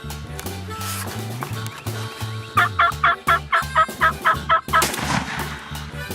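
A Rio Grande turkey gobbles loudly in a rapid rolling burst, close by, after a few lower honking calls; no talking.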